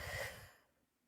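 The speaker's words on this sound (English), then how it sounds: "And exhaling." A deep meditative exhale through the mouth, a soft close breath that fades out over about a second, alone and quiet.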